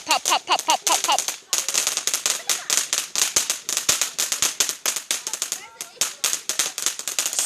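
Bonfire night fireworks crackle in long, dense strings of sharp pops, rapid and loud like firecrackers going off nearby, with brief excited voices near the start.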